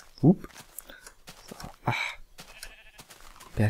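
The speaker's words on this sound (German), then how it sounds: "Die ganzen Schafe." Sheep bleat in the Minecraft video game, with a few short bleats spread through the stretch, the loudest near the start and again at the end, alongside soft background movement.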